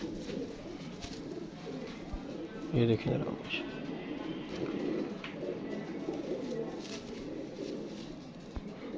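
Pigeons coo in a backyard loft where a keeper shows off his birds' feathered feet, soft throaty calls repeating under someone talking close by, with one brief flutter-like burst partway through.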